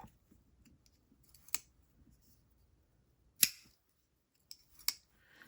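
An Ohlone Knives GOAT pocketknife blade swings open and shut, giving a few sharp isolated metallic clicks and snaps spaced over a few seconds in a quiet room.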